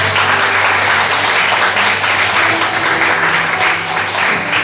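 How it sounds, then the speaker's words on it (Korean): A church congregation at a Sunday service breaks into sustained, loud applause that stays full and even throughout, with a steady low hum beneath it. "우리 유정 형제 박수 한번 하겠습니다."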